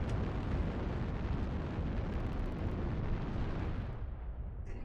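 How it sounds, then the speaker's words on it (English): Orbital cannon strikes explode in a video game, producing a continuous roaring wall of blast noise. It eases toward the end, and a brief crackle sits on top of it. "Gosh dang, orbital cannons."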